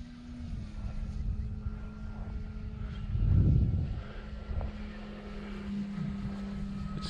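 An RC Stearman PT-17 model biplane powers up for a takeoff from tall grass in a park, its engine a steady droning whine that swells briefly midway, heard from a moderate distance.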